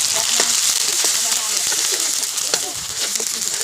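Pounded chili paste sizzling in hot oil in a pan, a steady close hiss of frying with small crackles throughout.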